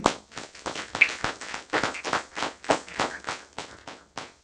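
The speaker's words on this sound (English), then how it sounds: "I think they both deserve a round of applause." Applause at a school board meeting from a small group, a sparse run of separate sharp claps at an uneven rhythm, moderately loud and close, with no talk.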